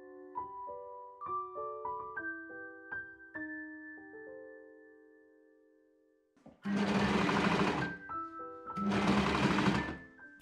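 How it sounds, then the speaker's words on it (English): Serger sewing machine stitching the bottom cuff seam of a sweatshirt, two loud, fast, even bursts of whirring stitching late on, after quiet tonal plucked background music at the start. "I serge the bottom cuff seam."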